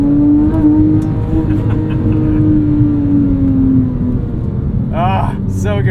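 A Porsche 997.1 911 GT3 with its 3.6 flat-six engine driving a canyon road, a loud steady engine drone that slowly drops in pitch, then a sharp rising rev near the end, with people talking over it inside the car.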